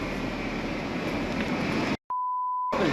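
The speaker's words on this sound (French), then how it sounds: "Là, tu mets un gros bip sur la vidéo." Steady noisy outdoor background at the Puy de Sancy, France, abruptly cut by a sustained electronic censor beep lasting under a second, then the noise resumes.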